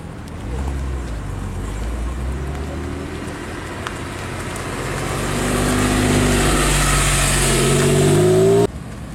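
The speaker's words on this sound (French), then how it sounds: "on a la police qui arrive. La police en Porsche." A Porsche police car arrives at a supercar gathering, its engine rumbling low and steady before swelling louder as it draws near and revs, then cutting off abruptly.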